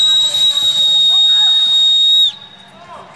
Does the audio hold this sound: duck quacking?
no